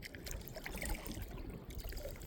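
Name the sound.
waterfall roaring in the distance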